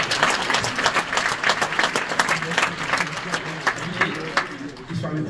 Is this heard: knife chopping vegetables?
no